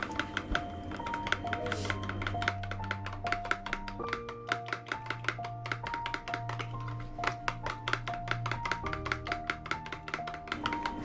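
Two chicken eggs with half a teaspoon of salt are whisked in a bowl, a rapid continuous clicking and tapping of utensil on bowl over quiet background music.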